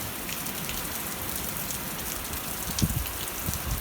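Steady moderate rain patters on outdoor surfaces, a dense continuous hiss of drops with a few heavier splashes near the end and no voices.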